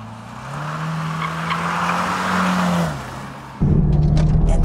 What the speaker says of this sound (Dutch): En dan begint die te schuiven, dan begint de overstuur te ontstaan.